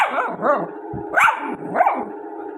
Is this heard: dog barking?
yes